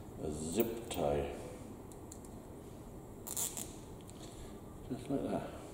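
A plastic zip tie is pulled tight in a few quick ratcheting zips, close and fairly quiet, over low background noise.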